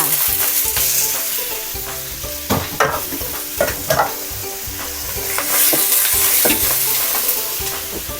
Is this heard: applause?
no